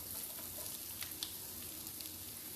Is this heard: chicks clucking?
no